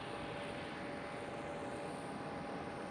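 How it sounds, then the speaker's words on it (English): A KLM airliner's auxiliary power unit, just started at the gate at Amsterdam Schiphol, gives a steady broadband roar with a thin high whine on top, constant and moderately distant throughout. "from this KLM tail you see at the bottom of the screen, the APU has just started."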